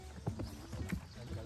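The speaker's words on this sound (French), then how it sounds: "Il doit partir au galop." A horse being ridden breaks into a gallop, its hoofbeats thudding in an uneven rhythm at close range, with faint voices in the background.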